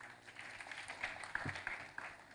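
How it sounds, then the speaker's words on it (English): Audience applause at an event marking the 60th anniversary of China–Kenya diplomatic relations, a fairly faint, uneven round of clapping with a few sharper claps standing out. "Let us give them a good round of applause."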